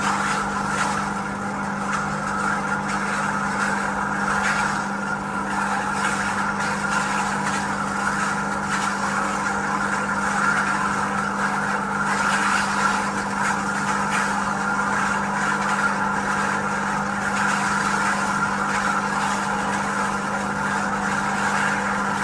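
A running electric motor spins while submerged in liquid nitrogen, giving a steady, loud whine with a constant low hum and a bright upper whir that holds evenly throughout, with no voices.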